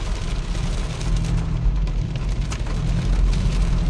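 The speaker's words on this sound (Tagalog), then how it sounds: "Grabe yung ulan guys, malakas yung ulan." Heavy rain pours down steadily, a dense, loud hiss with low rumbling underneath and no voices.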